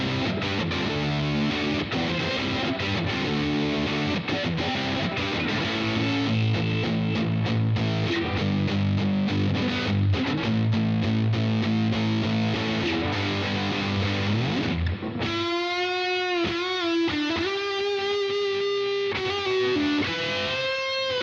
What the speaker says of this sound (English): I think the Distortion warrants a Les Paul